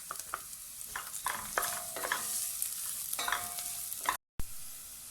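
Garlic dropped into a pan with ginger already fried golden, sizzling steadily while a utensil stirs and scrapes in short clattering bursts, with a brief cut near the end.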